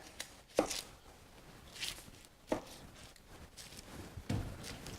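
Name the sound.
knife cutting an onion on a board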